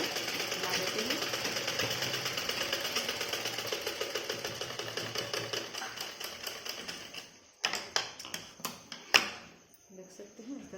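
A sewing machine runs steadily while stitching a blouse, a continuous fast mechanical chatter for about seven seconds, then slowing into a few separate bursts and clicks near the end.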